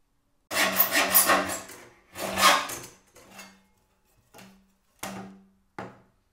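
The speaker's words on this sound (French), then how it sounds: "je commence par découper un tronçon de 12 cm dans mon tuyau" Saw cutting a 12 cm section from a pipe for soldering work, rough rasping strokes in several bursts, the first two long and loud, then shorter, fainter strokes with pauses between, no talking.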